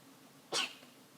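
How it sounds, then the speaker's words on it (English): A single sharp sneeze bursts out near the mic in a quiet room, brief and bright, one short spike with no talk around it, from someone suffering pollen allergy. "Oh, I need to sneeze, sorry."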